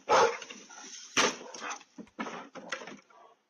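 A dog barks at a bear, heard as a few sharp barks followed by choppier yips and whimpers, loud and close, coming through as a played-back video recording.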